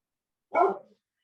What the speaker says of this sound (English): Is that dog, Maggie?